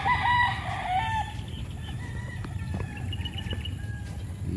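Chickens and roosters on a big breeding farm in the Philippines crow loudly and cluck, several birds overlapping nearby in a busy, continuous chorus.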